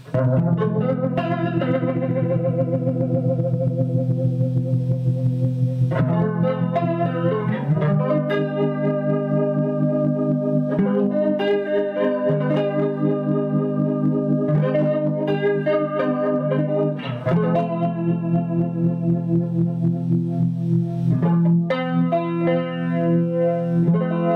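A sustained, chord-heavy instrument played through a Behringer Virtualizer's swirling rotary speaker effect, its tone warbling and shimmering as chords change every few seconds.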